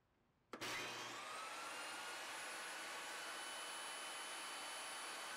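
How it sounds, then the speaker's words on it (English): A SawStop compact table saw switches on in bypass mode, its motor snapping on and spinning up into a steady, loud, high-pitched whine that holds to the end. "Start the saw in bypass mode."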